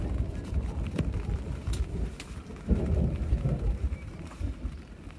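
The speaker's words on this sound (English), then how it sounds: "Can you hear the thunder?" Thunder rolls low and distant during a storm at a campsite, a rumbling swell beneath steady rain, with a slightly stronger surge partway through.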